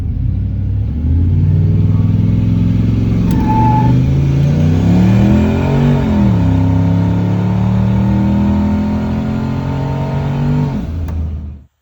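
A turbocharged car with sticking wastegates revs hard on a 0-60 run, accelerating through rising gears at sustained full throttle, loud and close, then cuts off abruptly at the end.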